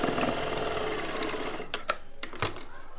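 An electric sewing machine stitches a blouse neckline in a rapid, continuous whirring run that slows and breaks into a few separate clacking stitches near the end, close and moderately loud.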